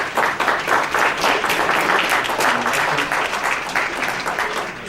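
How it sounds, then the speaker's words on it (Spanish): Warm applause from a conference audience welcoming a speaker at a psychology congress, dense steady clapping that stays loud and even throughout without a break. "Lo recibimos con un caluroso aplauso."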